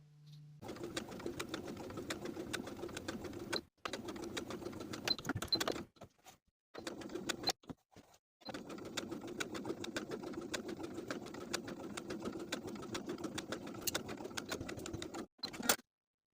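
A sewing machine edge stitching along the folded edge of fabric, a fast steady mechanical whirring chatter running in long bursts with brief stops and restarts, close and fairly quiet.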